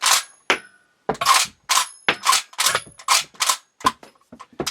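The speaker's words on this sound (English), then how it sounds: "So basically what you can do now is cycle it." Bolt of a Swiss Rubin rifle being worked by hand, a series of sharp metallic clacks and clicks in an uneven rhythm, close and fairly loud, with brief pauses between strokes and no talking.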